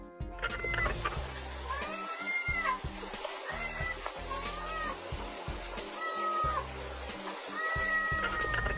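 A cat meows repeatedly beside its owner in a hot bath, a series of insistent, drawn-out cries close by with short pauses between them, over faint background music.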